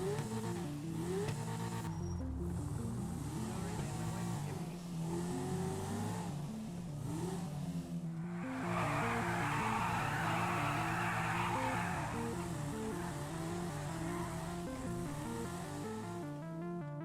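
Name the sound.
sports car speeding through traffic, tires squealing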